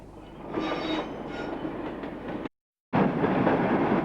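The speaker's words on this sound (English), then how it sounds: "Around the same time, this Class 40 was filmed on the Caledonian" A British Railways Class 40 diesel locomotive rumbles past with a loud, rushing roar and rolling wheel noise, cut by a brief silent gap before the train noise resumes.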